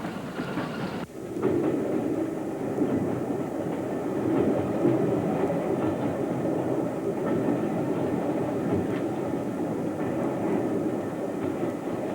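A train rumbles along steadily with rhythmic clatter of wheels on rails, continuous and moderately loud after a brief quieter opening.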